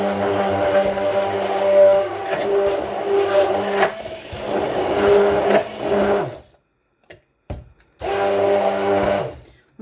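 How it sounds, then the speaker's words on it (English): A loud immersion blender whirs and grinds in bursts while blending applesauce, running steadily for several seconds, cutting out briefly, then starting up again. "Okay, I have my immersion blender. I can't remember if this is loud"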